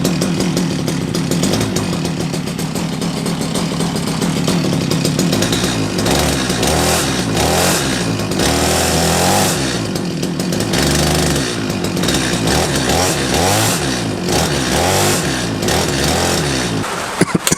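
STIHL MS 250 chainsaw, recently serviced after a no-spark fault, idles loudly and continuously on its own without choke, with a rough, throbbing two-stroke engine note and uneven pulsing.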